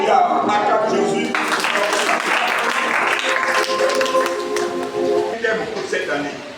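Congregation applauding in a church to acclaim Jesus, a sustained loud wash of clapping with voices and singing mixed in throughout.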